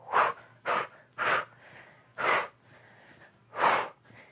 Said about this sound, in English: a little power breath too, if you want to. Kind of a really releasing exhale